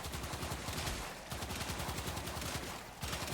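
Knell Prime firing in Warframe, a dense stream of loud, close gunshots in rapid succession with two brief pauses, no talking.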